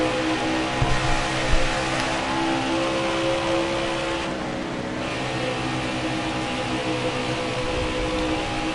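A race car engine drones and revs steadily at high pitch during a NASCAR Heat 4 race at Texas, loud and continuous with a brief surge early on and a dip midway.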